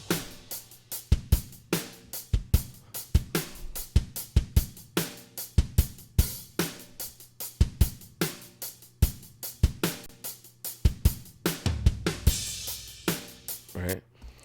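A live drum kit plays a steady groove of sharp kick and snare hits with cymbal splashes, recorded close and clear with no voices.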